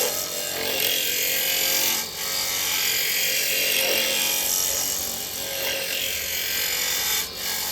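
A spindle gouge held against wood spinning on a lathe, a continuous loud scraping rasp with brief dips where the cut eases, steady and close, with no talking.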